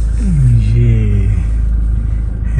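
A car engine rumbles steadily up close as the vehicle pulls into a cramped spot beside a rough work area piled with material, with a rising whine early on and no clear talk.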